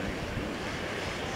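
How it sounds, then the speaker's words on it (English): Wind rushes across a ski slope during a giant slalom race, a steady, broad roar buffeting the microphone with no other sounds or voices. "I think the wind's blowing them down."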